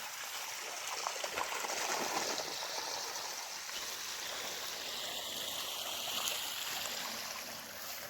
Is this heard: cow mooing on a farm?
no